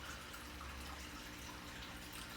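Aquarium water runs through a recirculating cleaning setup, making a steady, continuous rushing trickle that stays close and even throughout, with no voices.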